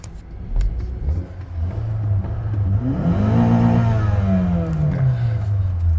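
A Honda Accord G8 with a 2.4 engine tuned to run on LPG revs up loudly and close, its pitch rising into a sustained high rev before easing back down, with no talking.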